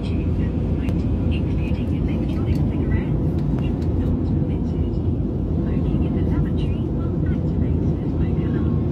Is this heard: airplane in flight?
yes